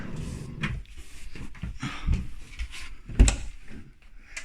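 Wooden sliding and knocking sounds of a drawer being opened and shut aboard a 2018 Lagoon 450 S sailing catamaran, with a sharp thud near the middle, close and fairly quiet.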